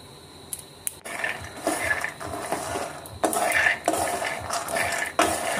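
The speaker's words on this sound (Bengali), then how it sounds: "তো এখানে প্রথমে আমি কাঁচা বাদামগুলোকে একটু ভেজে নেব।" Raw peanuts being dry-fried in a pan are stirred with a utensil, giving close, repeated rattling scrapes and clinks in uneven bursts over a quiet background.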